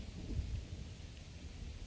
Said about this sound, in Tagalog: May kulog.